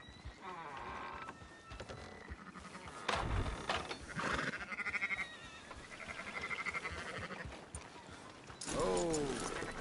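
Sheep bleat repeatedly in a busy Red Dead Redemption 2 game soundscape, with voices talking over parts of it and a louder burst of noise near the end.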